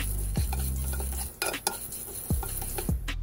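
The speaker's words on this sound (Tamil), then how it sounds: "கலர் லைட்டாக மாறுற வரைக்கும் வறுத்துக்கோங்க" Dry lentils (dal) being stirred and roasted in a pan without oil, for homemade baby cereal: scraping stirs and a few sharp clinks of a utensil against the pan, close up, with no talking.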